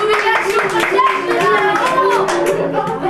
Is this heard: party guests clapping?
yes